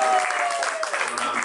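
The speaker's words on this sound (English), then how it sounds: "Let's give him a round of applause" A studio audience at a Family Feud style game show applauds, a brief burst of dense clapping with a tonal hum underneath and a voice faintly mixed in.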